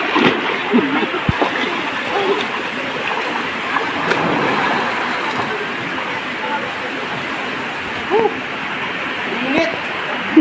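Hot spring water pouring out from beneath rocks under a mountain, a steady broadband rush and splash that stays close and loud, with brief clicks and faint voices mixed in.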